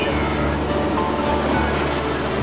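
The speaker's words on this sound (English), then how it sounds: "little bit of water splashes up in front there." Amphicar amphibious car motoring through water with a little water splashing up at the front, a steady loud wash of water and engine rumble filling the whole stretch without break.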